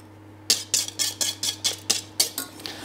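A whisk or spoon beats rhythmically against a saucepan of thickening cream, about ten quick scraping strokes in steady succession over a low steady hum, no voices.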